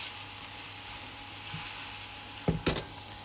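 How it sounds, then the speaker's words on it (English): Bacon and peppers frying in a pan, a steady close sizzle with a short scrape and a louder burst of spitting as the bacon is flipped near the end; no one speaks. "So just going to turn the bacon over again."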